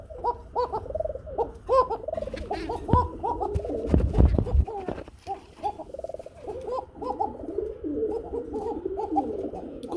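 Several domestic pigeons kept for sale coo close by in repeated, rhythmic rolling calls that continue steadily, with a brief burst of rustling midway and soft background noise.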